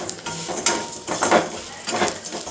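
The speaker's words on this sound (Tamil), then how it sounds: "இந்த நெய்யிலேயே சேமியாவையும் போட்டு வறுத்துருவோம்." Vermicelli stirred and roasting in ghee in a pan for a sweet coconut milk sago payasam, with soft sizzling and intermittent scraping of a spoon against the pan, close and clear.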